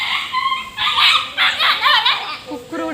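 A small dog gives a run of high, whiny yips and whimpers in quick bursts, loud and close, with brief gaps between them.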